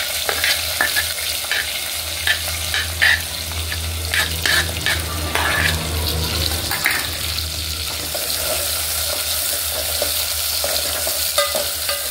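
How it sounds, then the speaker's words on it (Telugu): Sliced onions and green chillies frying in hot oil with cumin for an Andhra-style mutton curry, a loud continuous sizzle with repeated stirring scrapes of the spatula close by, no voices. "ఉల్లిపాయలు పచ్చిమిరపకాయలు కొంచెం వేగాలి."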